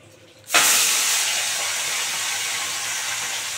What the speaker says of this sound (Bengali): তেল গরম হয়ে গেছে, এবার একটা একটা করে মাছগুলো ভেজে নেবো